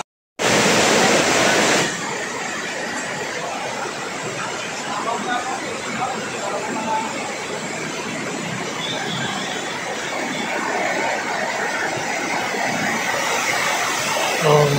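Clear running water at Dalitiwan Resort in Majayjay, Laguna, rushes as a steady, loud broadband wash that starts abruptly and holds constant, with faint voices beneath it.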